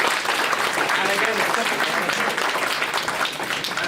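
Audience applause at the close of an economics panel event, dense steady clapping filling the whole stretch with a voice speaking briefly over it.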